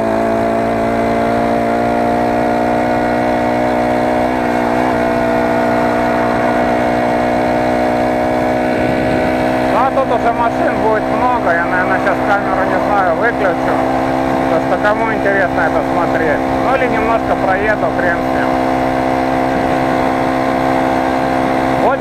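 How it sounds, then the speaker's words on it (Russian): A motorized bicycle with a 4-stroke Honda GX35 clone engine runs steadily with a continuous droning hum, growing rougher and louder about halfway through as it strains at higher revs, with riding noise layered on top. "В принципе, я бы не сказал, что мотору плохо, он надрывается."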